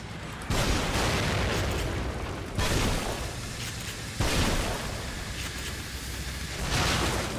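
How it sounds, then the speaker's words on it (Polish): Grenade blasts in the horror video game The Evil Within, several loud booming bursts in a row, each with a broad rumbling tail, no talk over them. "Ja mu tam wrzucę od razu w takim razie granat."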